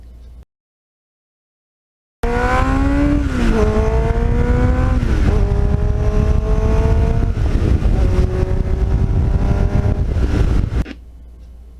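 A 1989 Kawasaki GPX750R sport motorcycle with a Muzzy aftermarket muffler revs hard and climbs through gears, loud and close, each pull a rising engine note with brief dips at shifts, then cuts off abruptly.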